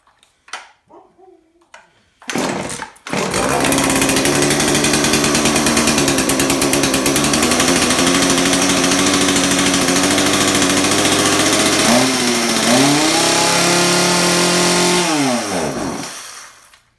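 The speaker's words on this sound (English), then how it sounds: "Let's try to let it run with the choke a bit." A Husqvarna 235 chainsaw fitted with a replacement carburetor gives a few pull-cord tugs, then starts and runs loud and steady on choke for about thirteen seconds, its pitch wavering briefly near the end before it cuts out.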